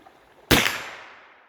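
A single sharp shot from a .32 Thompson Center Seneca black powder rifle loaded with 20 grains, fired outdoors at roughly 37 yards, with a loud crack followed by a fading tail.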